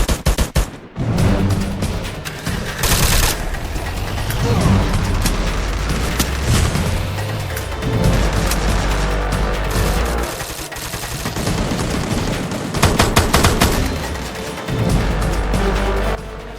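Intense gunfire in the video game Free Fire, rapid automatic bursts and booming shots overlapping almost nonstop, loud and close with a few brief gaps.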